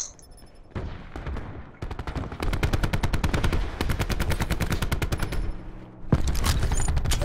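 Rapid automatic gunfire from a video game shooter played with an SAUG submachine gun, loud sustained bursts with brief pauses and a short gap before a final burst.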